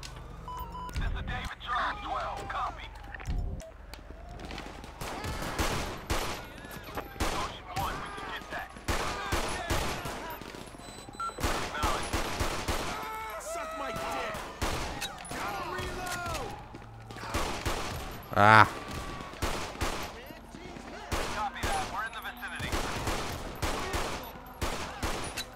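GTA5 gunfire crackles in repeated bursts and volleys through a police-mod shootout, with radio-style voices talking over the shots.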